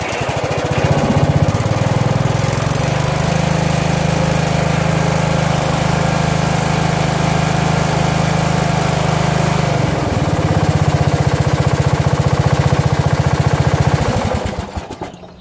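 A riding lawn mower's engine runs steadily after a fuel-line repair, a loud, continuous close-up drone with a brief dip near the middle before cutting off at the end.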